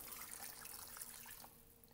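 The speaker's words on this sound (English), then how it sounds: "we're gonna add another 2 cups of water right here" Water pours steadily into a pot of red beans cooking on a stove, a soft, faint splashing trickle that tapers off near the end.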